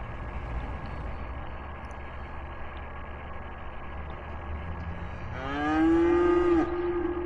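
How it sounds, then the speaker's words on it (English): A loud cow moos once in the city-building video game Cities: Skylines, a long low bellow rising suddenly over a quiet hum of background ambience near the end. "That was a loud cow."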